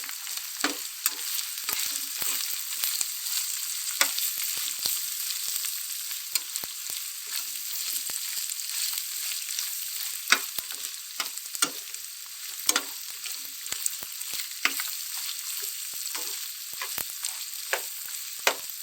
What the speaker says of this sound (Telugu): ఒక 2 నిమిషాల పాటు వేగనిద్దామండి